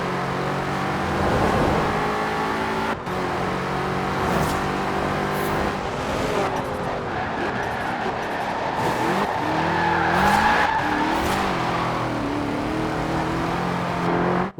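A car in the racing game Forza Horizon 4 revs and accelerates continuously, its engine droning and rising in pitch with tires squealing through skids, a loud unbroken roar with no talk.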